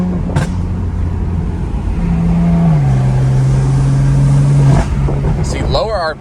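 A BMW M4 Heritage Edition's engine and exhaust drone steadily from inside the cabin while driving, the note shifting pitch as revs change midway, with voices talking over it.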